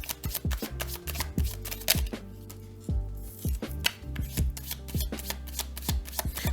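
Tarot cards being shuffled and drawn, giving repeated crisp riffling bursts and sharp slaps in an irregular rhythm, close and fairly quiet, with a short pause partway through and no voices.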